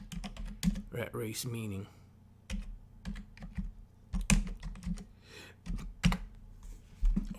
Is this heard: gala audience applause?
no